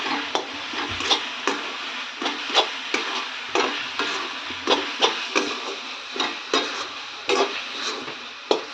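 A wheat flour and coconut mixture is stirred while roasting in a pan, the spatula scraping in a steady rhythm of sharp, close strokes over a faint sizzle, with no talking.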